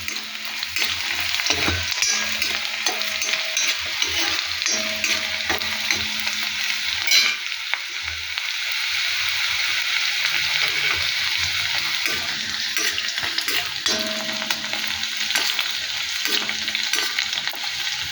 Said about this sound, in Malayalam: അപ്പോൾ നമ്മൾ ചേർത്തിരിക്കുന്നത് ചുവന്നുള്ളി, വറമുളക്, കടുക്, ഒരു 2-3 തരി ഉലുവ ഇട്ടിട്ടുണ്ട്. ഇതൊന്ന് മൂക്കട്ടെ.